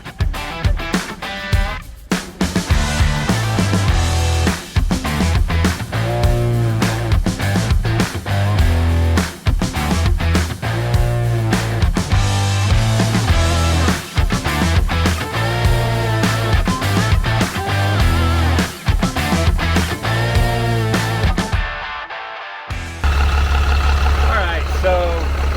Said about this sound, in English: fire this thing up and hopefully it revs.